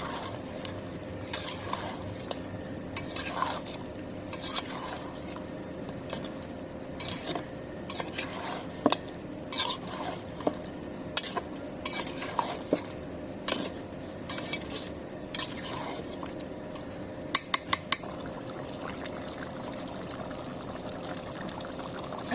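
Goose meat being stirred in a cooking pot, a steady soft bubbling bed under repeated scraping and clinking of a spoon against the metal pot, with brief sharper taps near the end.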